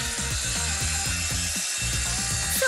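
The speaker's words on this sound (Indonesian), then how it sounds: "Gergaji bundar." Circular saw cutting wooden beams while building a small salon frame, a loud continuous whine with a rhythmic chattering pulse from the blade biting the wood, close and alone.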